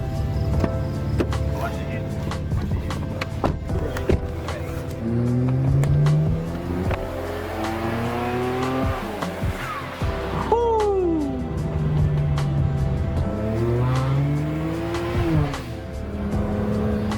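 A BMW F30 335xi with an aftermarket downpipe pulls away and drives, its engine note rising and falling through several accelerations and gear changes, heard from inside the car with people talking over it.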